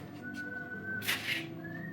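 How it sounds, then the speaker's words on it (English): A man whistles to a team of reindeer during a Christmas stage reading at a small theater, producing a thin sustained tone that rises slightly, breaks off, then returns with a brief breathy burst in between. "to his team gave a whistle."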